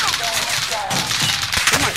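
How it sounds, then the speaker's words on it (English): Dense, continuous video game gunfire that stays steady and loud throughout, with no talking over it. "Somebody's shooting from that."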